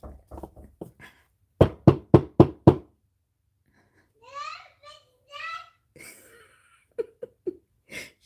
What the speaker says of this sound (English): The baby know how to knock on the door now.